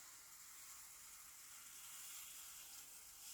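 Waffle batter sizzles inside a hot waffle iron, a steady bright hiss of frying and escaping steam that holds evenly throughout, close but fairly soft with no talking.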